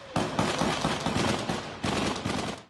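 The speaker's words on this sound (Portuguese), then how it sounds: "Do lado de dentro, os atiradores disparam em direção aos oficiais." Rapid bursts of gunfire from shooters firing at police inside a church in Russia, loud crackling volleys in two clusters, continuous and dense with no voices.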